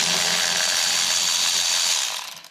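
A Milwaukee power ratchet fitted with a 10 mm socket breaks a bolt loose during spark plug replacement on a Lexus LS400, giving a loud, steady mechanical whirring that runs for about two seconds, then quickly trails off.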